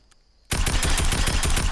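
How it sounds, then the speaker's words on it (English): Rapid automatic SMG fire in a video game, a dense stream of sharp close shots starting abruptly after a short quiet moment and continuing steadily without talk. "There's not really any other ways you can use an SMG other than just keeping locked on and shooting."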